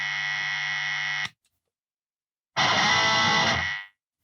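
Electric guitar with a dirty distorted tone through a noise gate and mid-treble boost EQ, heard in two loud sustained bursts: a held buzzing chord, then a gap of silence as the gate cuts it, then a harsher strummed chord.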